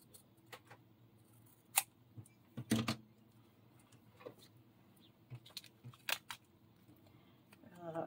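Scissors cut a picture out of a magazine in a few close, sharp snips with quiet pauses between them, and faint paper rustle underneath.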